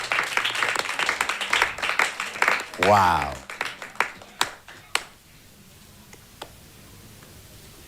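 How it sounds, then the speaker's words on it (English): Scattered claps from a kids' reality-show audience fade under a host's talk, with a few loud sharp claps standing out before the room goes quiet. "Please keep clapping,"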